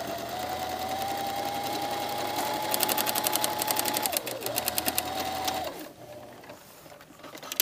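A sewing machine stitches a jacket sleeve lining, its motor whirring steadily and close. Rapid needle clatter takes over midway, then it stops, leaving quiet room tone and faint handling noises.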